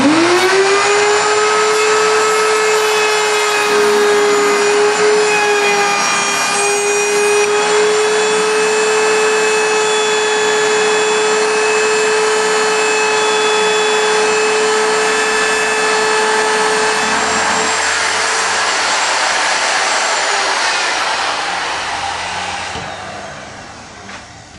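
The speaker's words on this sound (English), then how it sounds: "I'm going to use a router." Wood router cutting a small notch into a wooden piece of a cylinder front desk under repair, a loud steady high motor whine held for about twenty seconds before spinning down at the end.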